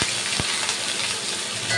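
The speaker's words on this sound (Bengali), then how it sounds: "এবার এই আলুটাকে আমি বেশ ভালো করে ভাজবো" Potatoes frying in a pan with spices and two green chillies, a dense close sizzle with a brief stirring knock, steady and unbroken throughout, no speech.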